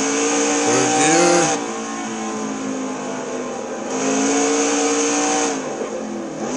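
A race car engine heard from inside the car at Le Mans, loud and close, revs climbing, dropping at gear changes, then climbing again, with no talking.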